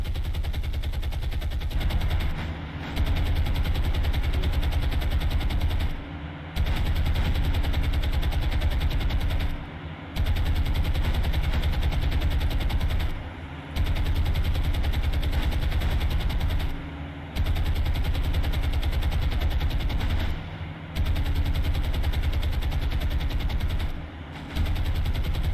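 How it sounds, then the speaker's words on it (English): Naval guns firing in the War on the Sea video game, a dense continuous rattle of rapid gunfire with a low rumbling bed, broken by short pauses at regular intervals every few seconds, with no talk. "That's the guy we're shooting at with our ships."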